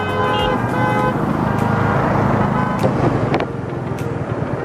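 Traffic on the Mumbai–Pune express highway heard while riding a motorcycle, with a steady roar of engines and wind, occasional horn toots, and vehicles passing close by.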